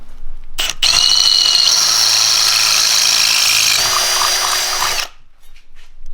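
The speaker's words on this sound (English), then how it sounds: "So first step is going to be drilling that out so we can actually mock it up on there" A power drill bores out an off-road mirror mount on a Volkswagen Bug, running loud and steady with a whining motor for about four seconds, then changing pitch before stopping abruptly.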